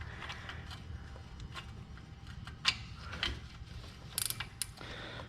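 A ratchet on an angle extension works engine oil cooler bolts on a Chevy 1.8 engine, giving faint, scattered clicks and a few sharper metallic snaps over a steady low hum, with no talking.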